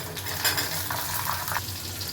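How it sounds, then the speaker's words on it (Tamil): Garlic, onion and lentils frying in oil for a cluster bean vatha kuzhambu, a soft continuous sizzle with light scraping and a few utensil clinks. "இந்த பருப்பு போட்ட உடனே இந்த பூண்டு வெங்காயமும் போட்டு எல்லாம் சேர்ந்து கோல்டன் ப்ரௌனில் வரும்."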